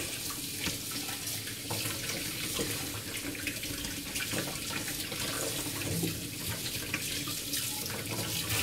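Water running from a tap while something is rinsed, a steady, close splashing flow that continues unbroken with no talking over it.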